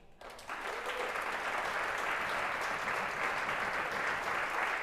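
Audience at a youth gathering breaks into sustained applause, a dense wash of clapping that starts abruptly and holds steady and fairly distant throughout.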